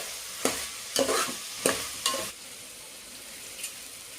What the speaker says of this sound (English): let's add some more coriander leaves and stir it again to get it fried for a while